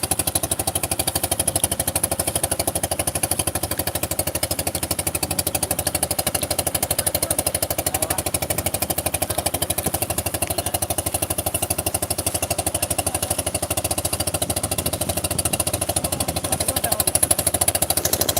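A boat engine drones loudly and steadily throughout, a constant rattling chug with no pauses, on a flooded wetland.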